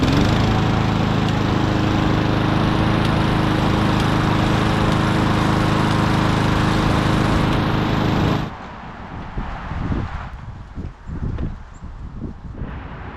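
A repaired lawn mower engine runs loud and steady on test for about eight seconds, then cuts off, leaving quieter clanks and handling noise.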